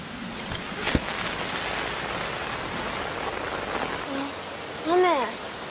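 Steady rain falls in a dense, continuous hiss throughout, close and even, with a brief voice near the end.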